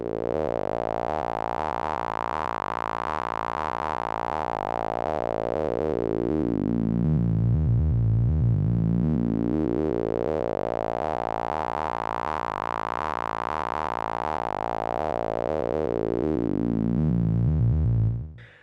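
Synth tone in Max for Live with a resonant filter whose cutoff is swept between 100 Hz and 1000 Hz by a very slow 0.1 Hz LFO, a buzzy sustained drone that slowly brightens and darkens twice, then stops abruptly.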